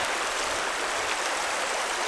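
A winter river runs steadily near a snowy bank, a continuous broadband rush of flowing water that stays even and fairly loud with no pauses or voices.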